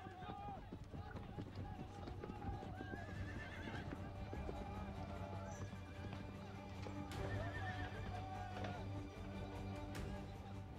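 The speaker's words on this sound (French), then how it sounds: "On pratique encore dans toute l'Algérie l'art de la fantasia, ce jeu de chevaux issu de la tradition arabe" Horses at an Algerian fantasia, the traditional Arab horse game, neigh and whinny repeatedly over running hooves clip-clopping, steady and fairly close, with a crowd murmuring and voices in the background throughout.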